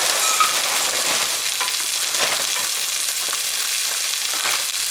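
Food frying loudly in a pan, a dense continuous sizzle and crackle that stays strong and close throughout, with no voices over it.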